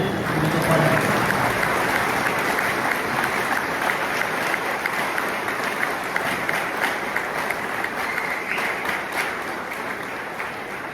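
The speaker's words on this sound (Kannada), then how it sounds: "ತಾವೆಲ್ಲರೂ ಕೂಡ ಎದ್ದು ನಿಂತು ಚಪ್ಪಾಳೆ ಹೊಡಿಬೇಕು" A large seated crowd rises for sustained applause at an inauguration ceremony for a sports and cultural forum, dense steady clapping filling the hall for about eleven seconds, with a few faint voices underneath.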